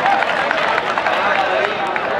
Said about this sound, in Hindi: दोनों बच्चों के लिए जोरदार तालियां